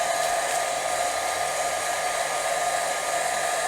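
A heat gun blows steadily on a headphone cord during a headphone modification, a constant loud hiss and whir that runs without a break from start to finish.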